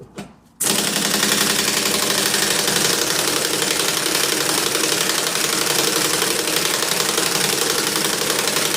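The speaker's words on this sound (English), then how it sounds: "The compressor needs to charge up, that's why it's very slow, but it's doing the job" After a brief quiet start, a loud air compressor kicks on and runs with a rapid, rattling mechanical chug, steady and close, while charging up slowly during engine mount work on a Saab 9-3.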